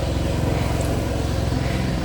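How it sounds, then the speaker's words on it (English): A lawn mower runs outside around a small patch of lawn, a steady, dense engine drone with a continuous buzzing rumble, fairly constant in level throughout. "outside somebody's mowing the lawn"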